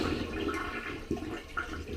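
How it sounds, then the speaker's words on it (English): A toilet in a mobile home is flushed before its replacement is installed. The water rushes loudly and steadily, close to the microphone, with no talk over it. "Always flush."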